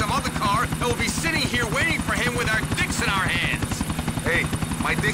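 A helicopter in GTA: The Ballad of Gay Tony beats out a fast, rhythmic rotor chop that runs continuously underneath people talking.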